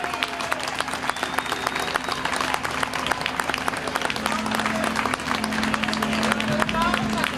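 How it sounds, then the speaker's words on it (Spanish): Audience clapping at a rock concert hall, a steady dense patter of applause and crowd noise running throughout with someone talking over it. "Así que un aplauso para todos los de Castellón que estén por aquí."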